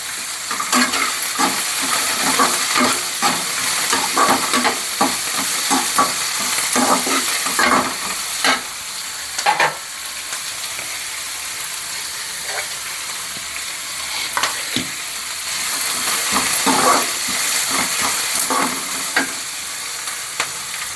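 Garlic and ginger fry in a pan for egg kurma, a continuous loud sizzle and hiss broken by repeated scraping stirs and occasional louder spatters throughout.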